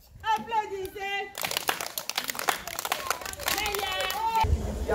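Applause and cheering at a primary school back-to-school event in Mbuji-Mayi, a dense burst of clapping and crowd noise, with sung or chanted voices before and after it.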